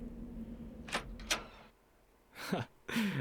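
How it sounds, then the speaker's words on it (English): Front door of a Victorian mansion unlocking and opening in the horror game Scratches, a few separate clunks and creaks with a brief quiet gap between them, heard fairly close over a low steady hum. "Oh, I love that door sound effect."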